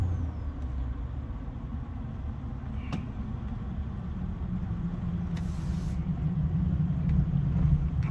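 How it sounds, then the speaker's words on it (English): Duramax diesel pickup with drop-in turbos and a stainless 5-inch exhaust, exhaust brake engaged, giving a steady deep low rumble that builds slightly toward the end, with no talk. "I have the exhaust brake on, so you guys get to hear that."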